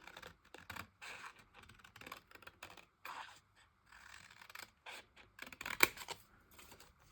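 Scissors cutting paper for a collage make quiet, close snipping and crisp paper rustles in a quick irregular rhythm, with one sharper snip near the end.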